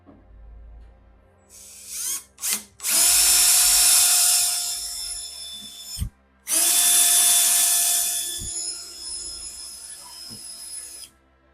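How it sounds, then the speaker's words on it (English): A power drill bores out holes in the body of a 1968 VW Beetle, whining loud and close in two long sustained bursts with brief stops and a few clunks between. "I'm gonna start off by drilling out"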